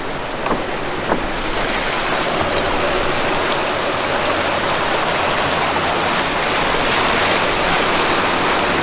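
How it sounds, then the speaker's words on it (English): Fast-flowing stream water in Alaska, a steady, dense broadband rush that holds at an even level throughout, close and loud, with no talk over it. "So that water is really moving."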